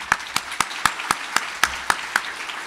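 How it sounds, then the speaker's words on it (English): Sharp, evenly spaced individual claps ring out at a city gathering honoring the city manager, about ten crisp hits close by over a few seconds with a faint room murmur beneath. "would you give him a round of applause?"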